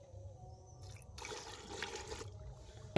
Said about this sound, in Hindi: अभी इसमें हम लोग पानी डालेंगे